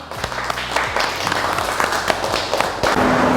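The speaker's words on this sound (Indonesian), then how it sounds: "Tepuk tangan untuk kalian semua." Dense, sustained applause from a class of automotive engineering students, many hands clapping steadily and loudly throughout with no voices standing out.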